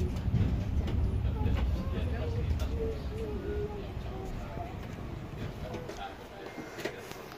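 A Logawa passenger train pulls into Jaruban station, a steady low rumble of rolling cars filling the clip with faint squeals and clatter, loud at first and easing slightly, with chatter and a few birds in the background.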